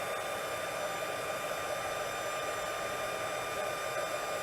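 An embossing heat tool blows hot air with a loud, steady, continuous whooshing hiss like a hair dryer, unbroken throughout and with no voices.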